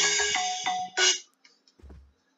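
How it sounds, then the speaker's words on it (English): A phone ringtone sounds for an incoming call during a Minecraft session, a loud bright electronic melody of short repeated tones for about a second and a half, then cutting off into near silence. "Oh, I'm getting a phone call."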